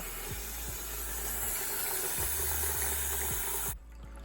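A bathroom sink fills from the tap during an unclogging job, giving a loud, steady rushing hiss of running water with faint rhythmic knocks beneath, cut off abruptly near the end.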